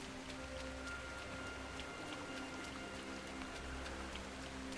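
Rain falling in the video game Sengoku Dynasty, a steady, soft patter of drops with a faint background hum, continuous throughout and fairly quiet.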